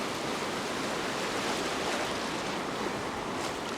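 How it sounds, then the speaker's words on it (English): Ocean surf breaks on a beach where someone is fishing for tailor. It makes a steady, loud, unbroken roar with no single distinct crash. "I'll just wait for a little break in the waves"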